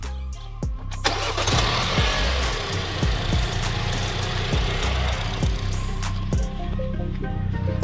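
A Mini Cooper S twin-turbo four-cylinder engine, about 220 horsepower, cranks and fires up close by, then settles into a steady, busy idle with a few revs in the engine bay.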